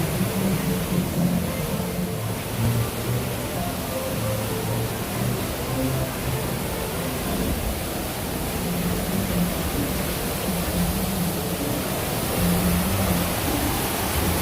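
A waterfall at Magic Kingdom theme park rushes in a constant, even roar of falling water, steady and fairly close with no break.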